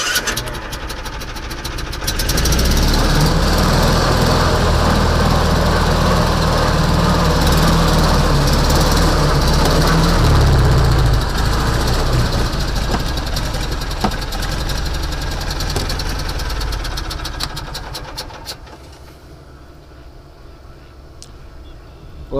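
An Argo ATV engine runs unevenly without choke, a loud, rough low rumble that holds for around fifteen seconds, then drops away to a quieter idle near the end.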